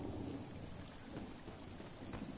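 Steady rain pours down during a thunderstorm, with low rumbling thunder rolling beneath the dense hiss of falling drops, heard alone with no voices.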